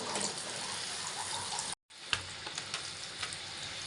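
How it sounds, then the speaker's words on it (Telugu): Aloo 65 potato pieces frying in hot oil, a steady close sizzle that cuts out briefly, then resumes with small pops and clinks. "ఇలా ఫ్రై ఫైవ్ మినిట్స్ ఫ్రై చేసుకోవాలండి"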